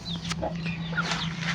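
Chickens clucking softly at a moderate distance, scattered short calls over a steady low background hum, no talking.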